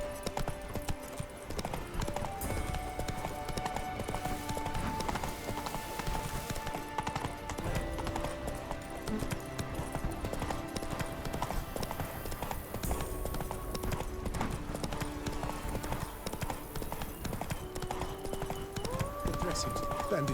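Roach, the horse in The Witcher 3: Blood and Wine, gallops with rapid rhythmic hoofbeats that clop steadily throughout under game music, while a voice talks over them.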